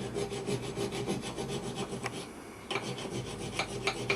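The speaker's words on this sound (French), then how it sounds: "alors je vais les finir à la lime" Hand file rasping steadily across a home-built four-stroke engine part, a rocker arm support, in quick repeated strokes with a brief pause midway, close and clear with no talk.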